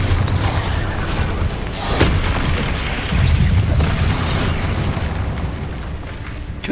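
Booming spell explosions from Confringo and Bombarder burst in the Hogwarts Legacy video game, a loud continuous barrage of blasts with sharper impacts near two and three seconds and no speech.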